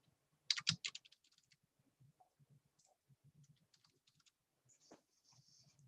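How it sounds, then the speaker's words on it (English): Someone types on a computer keyboard, starting with a quick burst of louder key clicks and then tapping out lighter, irregular keystrokes close to the microphone, with no speech. "So go ahead and start typing."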